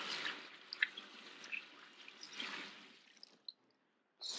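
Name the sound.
rinsing something under running water in a kitchen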